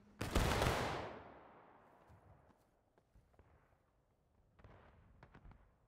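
A massed musket volley in a War of Rights Civil War battle: one loud, near, sharp crack with a long, fading rumble, followed by scattered, fainter distant shots.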